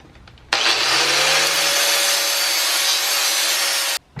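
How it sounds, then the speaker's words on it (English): A grinder cuts into a steel subframe reinforcement plate for a Nissan 240SX S13, sounding as a loud, harsh, steady whine with a rasping edge. It spins up suddenly, runs for about three and a half seconds, then stops. "I'm actually going to grind a little bit of the plate off here"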